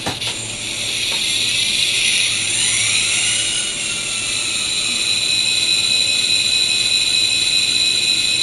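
N scale toy train locomotive starting up, a digital diesel engine sound that spins up from a brief clatter into a loud, steady high-pitched whine and hum that holds for several seconds.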